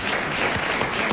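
Studio audience applause breaking out after a correct answer on a French TV comedy quiz panel show, dense steady clapping filling the whole short moment with only a trace of voices beneath.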